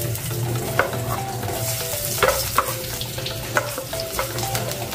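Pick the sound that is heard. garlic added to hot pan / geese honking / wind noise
garlic added to hot pan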